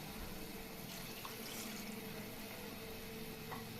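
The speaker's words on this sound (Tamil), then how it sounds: "ஒரு 3 கப்பு தண்ணி ஊற்றிக்கிறேன்" Water pours steadily into a cooking pot for rava kichadi as a cook adds about three cups. The stream makes a continuous soft splashing rush at moderate distance with no talking.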